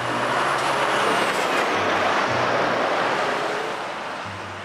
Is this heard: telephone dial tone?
no